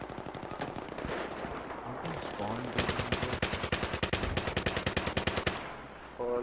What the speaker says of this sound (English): I was shooting somebody and he literally just like turned around and fucking sprayed